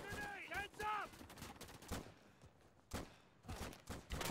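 Machine gun fire in Day of Infamy comes in short, sharp rattling bursts separated by quiet gaps. It is moderately distant and mixed with brief game voice calls.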